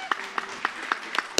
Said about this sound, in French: On vous acclame.